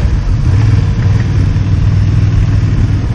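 A Honda CB750 Hornet motorcycle engine heard while riding, a loud steady mid-range drone with wind and road noise, continuous and close, no talking.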